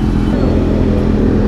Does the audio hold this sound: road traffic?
yes